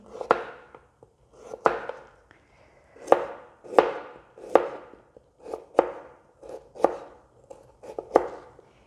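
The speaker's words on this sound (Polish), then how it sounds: "buraczki kroję na plasterki" A knife cuts through firm beetroot slices, about ten crisp thuds on a board at a slow, steady pace, close and clear.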